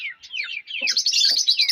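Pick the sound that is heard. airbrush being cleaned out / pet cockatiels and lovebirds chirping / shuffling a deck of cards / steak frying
pet cockatiels and lovebirds chirping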